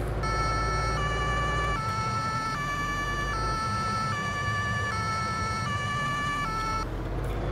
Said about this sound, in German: Sirene ist da.